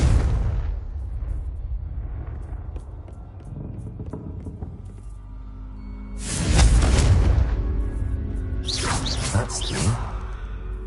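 A Confringo blasting spell goes off in Hogwarts Legacy, a loud burst of fiery explosion around the middle followed by a second crackling blast and rumbling debris, after a quieter stretch of ambient dungeon noise.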